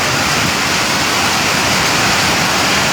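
Floodwater from heavy rain rushing across a Bangalore road near Nagasandra metro station, a loud, constant broadband roar with no breaks.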